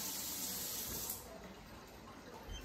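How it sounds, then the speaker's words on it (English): A kitchen tap runs as hands are washed beneath it, a soft, faint hiss of water that is stronger in the first second, then tapers to a quieter trickle. "Wash my hand again."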